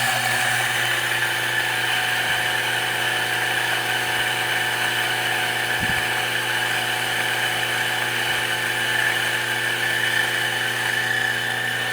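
DF64 Gen 1 coffee grinder with HE burrs grinding 18 grams of espresso beans, a loud, steady high motor whine with grinding hum throughout, close and without talk.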